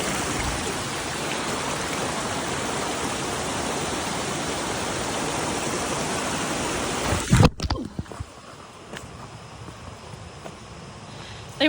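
Rushing stream water near a Hawaiian waterfall fills the first seven seconds as a loud, steady broadband wash, then drops abruptly to a much quieter background with a few faint knocks and footsteps.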